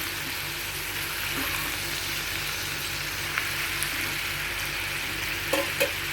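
Tomatoes and tamarind fry steadily in a pan for mint chutney, a continuous close sizzle with a low hum beneath and a couple of brief spatula taps near the end.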